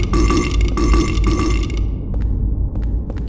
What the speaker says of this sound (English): Just take the video with the burping nurses.